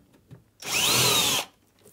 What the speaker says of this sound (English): Now I'm going to drill for the screws that hold the frame into position.